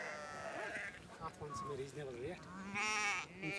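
Sheep and lambs at a Kashmir market bleat several times in wavering cries, close by, overlapping with one another against a busy background.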